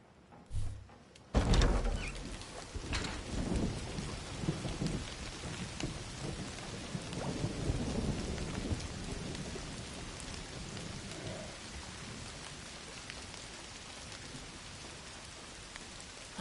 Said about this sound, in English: Don't you love rain? It washes everything clean.